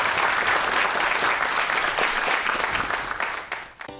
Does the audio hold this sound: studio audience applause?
yes